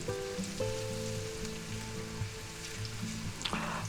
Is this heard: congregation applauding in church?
no